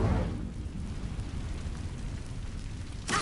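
An Incendio fire spell in Hogwarts Legacy lets out a low, rumbling whoosh of flame that swells at the start and fades into a roaring hiss, with a brief flare at the end.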